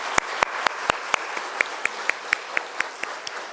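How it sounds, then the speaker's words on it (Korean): A church congregation claps during a Sunday afternoon worship service, a sparse, loosely spaced run of sharp individual claps with roomy reverb, steady and moderately close, with no talking. "함께 박수하겠습니다"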